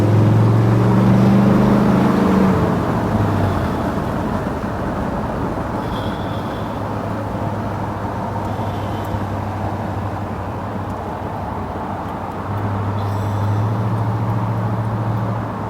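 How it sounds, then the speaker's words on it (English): A 1957 Ford Thunderbird roadster runs steadily with a low, continuous engine rumble and road noise, loud and close for the whole stretch, swelling slightly near the end, with no talking. "Hope this gives you some idea how well this Thunderbird runs and drives."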